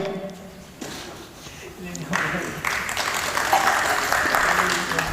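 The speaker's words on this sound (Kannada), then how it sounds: "ಚಪ್ಪಾಳೆ" A crowd breaks into applause at a felicitation during a stage play, with scattered clapping that swells into a dense, sustained burst partway through as a voice talks over it.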